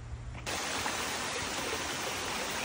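Bisibis Falls in Mauban, Quezon, rushes as a steady, broad roar of falling water that swells in suddenly after a quiet start and holds constant, with no voices.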